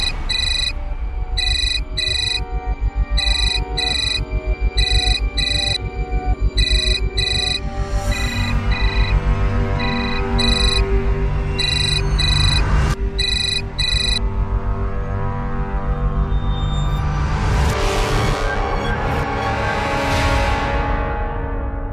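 A telephone rings unanswered in a Hindi crime drama, its bright electronic trill repeating in steady bursts with short pauses, then giving way to a swelling dramatic music sting.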